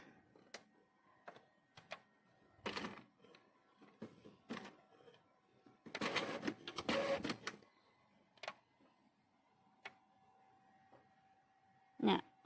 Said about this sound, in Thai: เครื่องปริ้นทุกคนก็กดเปิดเครื่องปริ้นก่อนนะ